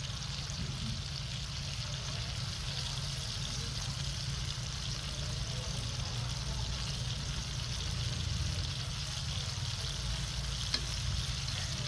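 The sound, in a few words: fish frying in oil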